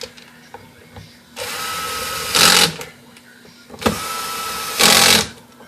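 Electric screwdriver whirring in two bursts as screws go into the lid of a Panasonic CF-29 laptop, each run rising to a louder, tighter whine as the screw seats, close up with light background noise.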